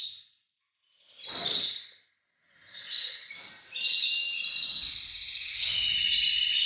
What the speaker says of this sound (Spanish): tengo ahora mismo aquí 2 pájaros en la mano